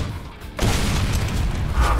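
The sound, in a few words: torque bow grenade crossbow firing in the video game Gears of War 4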